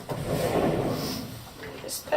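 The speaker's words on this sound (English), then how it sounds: "And it does have sliding doors." A sliding door in the master room of a 2019 Crossroads Sunset Trail 336BH RV rolls shut with a soft, rumbling slide that ends in a light knock, close by.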